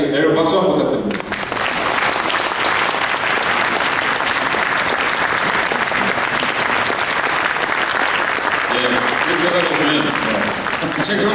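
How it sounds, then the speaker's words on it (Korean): Sustained audience applause at a Korean book talk show, loud and steady for about eleven seconds, with a voice speaking over the first second and near the end. "여러분 박수 한번 부탁드립니다"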